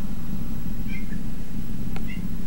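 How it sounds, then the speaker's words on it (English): A house cat squeaking instead of meowing, two short high chirps close by over a steady low background hum, with no talking. "you might be able to hear my cat squeaking"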